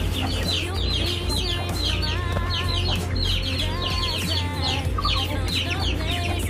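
Shamo breeder chickens clucking steadily in a cage, several birds calling over one another in repeated short clucks against a constant low hum, fairly close and loud.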